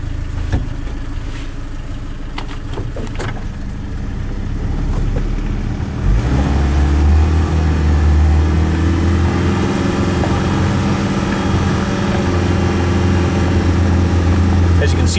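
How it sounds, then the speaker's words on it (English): A Suzuki Samurai with dual transfer cases in low range, its engine held at high RPM while barely creeping; a steady, droning mid-pitched roar builds after a rougher start and continues loud and unbroken. "the Samurai is just barely creeping along, even at high RPM."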